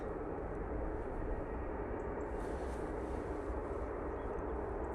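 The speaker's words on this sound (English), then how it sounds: "we do have the beautiful Etihad 787-10 Dreamliner going back to Abu Dhabi now," Etihad Boeing 787-10 Dreamliner lining up for takeoff at Manchester Airport, heard as a faint, distant, steady engine rumble with no talk.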